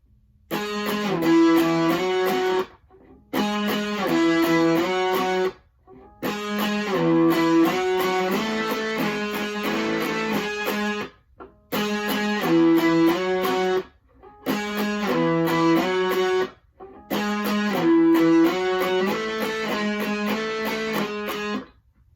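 Electric guitar plays a lead line slowly in repeated phrases separated by short pauses, a bright, clear melodic figure heard alone.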